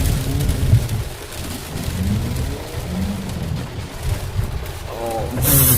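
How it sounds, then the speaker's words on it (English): Steady heavy rain hisses across the whole clip, with low rumbling underneath and brief muffled voices near the end. "it's starting to rain like a mother trucker now"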